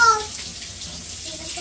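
Tap water runs steadily at a sink as a young child washes their hands, a soft continuous splash with brief speech-like tones at the start and end.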